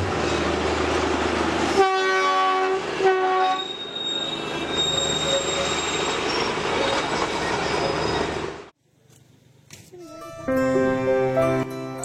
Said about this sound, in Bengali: কয়েক মিনিট পরেই দেখি একটি টয় ট্রেন হুইসেল দিচ্ছে